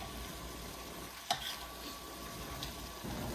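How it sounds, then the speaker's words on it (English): A spoon stirs beef stew in a pot over a steady, soft simmering hiss, with one sharp clink of metal against the pot partway through. "Give it a little stir."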